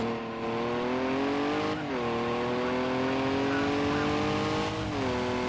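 A prototype race car in a Le Mans racing video game drones past at high revs, a loud continuous engine tone with two brief dips as it shifts, heard under a commentator's voice.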